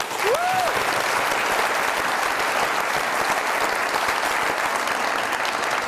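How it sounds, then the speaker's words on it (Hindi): A television studio audience breaks into loud, sustained applause to welcome a guest, dense clapping filling the whole stretch at an even level with a brief whoop near the start. "आप सबकी तालियों में अदील हाशमी साहब।"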